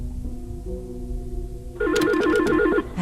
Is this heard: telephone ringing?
yes